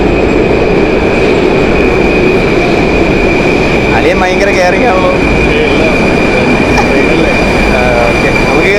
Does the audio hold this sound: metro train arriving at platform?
yes